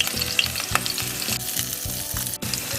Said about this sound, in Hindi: कढ़ाई में ऑयल गर्म हो गया है। तो मैं इसमें डालूंगी कटा हुआ अदरक, 2 से 3 हरी मिर्च